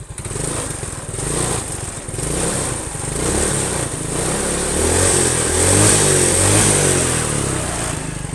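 A Yamaha Mio scooter engine that stutters on first throttle and lacks power, revved up and held at a loud, close, steady drone with slight rises and falls in pitch, and no voices.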